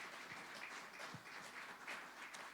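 A church congregation applauds during a worship service, with soft, fairly distant clapping from a small group and a few sharper individual claps standing out over several seconds.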